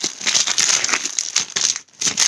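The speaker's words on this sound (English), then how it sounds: "So let's open this bag up." Plastic bag torn and crinkled open by hand without scissors, a seasonal subscription box pouch: steady close crackling and rustling that runs nearly continuously, with a brief pause before the rustling resumes.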